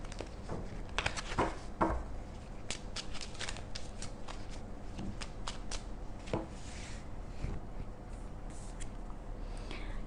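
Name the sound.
shuffling tarot cards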